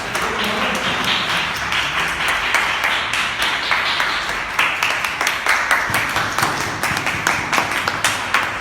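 An audience at a Toastmasters Club of West Delhi installation ceremony claps for the outgoing EC members, a steady crowd of close hand claps running throughout.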